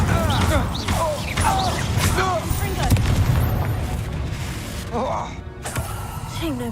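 Spellcasting battle in Hogwarts Legacy, with a steady rumble of booming magic impacts and blasts throughout and a voice calling out spells over the din.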